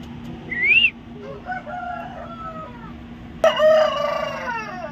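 A rooster crows once in a short rising call, then a second, louder crow rings out near the end, with a steady background hum and no talk.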